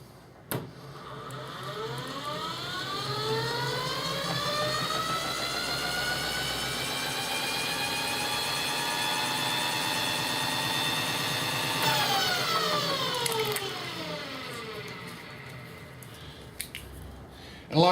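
Spin-T spin art machine spinning up to a steady whir, its pitch climbing at the start and holding level before winding down near the end, loud and continuous with no talk.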